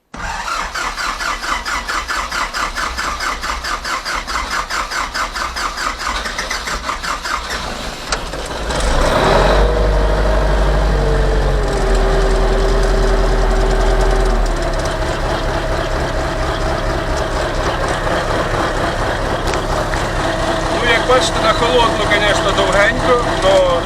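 A YuMZ tractor's D-240 diesel engine cranks with a brief starter whir, then catches and settles into a loud, steady, close-up rumbling idle that holds to the end.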